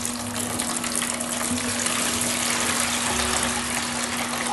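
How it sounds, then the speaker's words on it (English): Water drains steadily from the opened pump of a Whirlpool Duet Sport front-load washing machine, a continuous close gushing splash with a low steady hum beneath, no voices. "Now we're opening the pump because of this. Just the water in the bottom of the drum."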